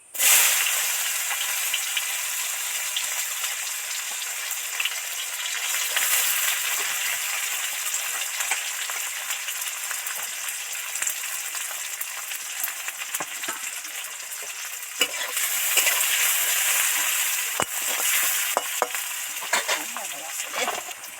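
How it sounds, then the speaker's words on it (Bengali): Chopped onion hits hot oil already holding dried red chilli and a bay leaf, bursting into a loud, close, continuous sizzle and crackle, stirred now and then with small clinks, no talking. "এবার এর মধ্যে পেঁয়াজ কুচিটা দিয়ে দেবো"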